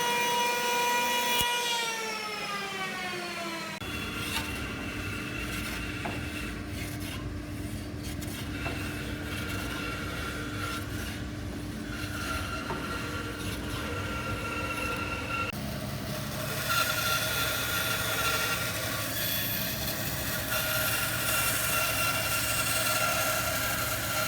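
A saw cuts the corners off a 10 by 10 centimeter pine beam, giving a loud, close, continuous grinding buzz whose pitch sweeps early on, then steadies and brightens partway through.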